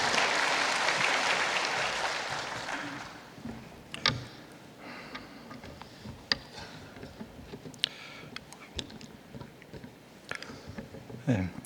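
A church congregation gives a short round of applause that swells at first, then fades within a few seconds, leaving scattered clicks and light rustling in a quiet room.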